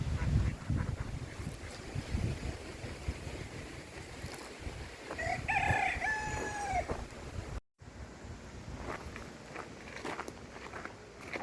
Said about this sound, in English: So, chickens and ducklings.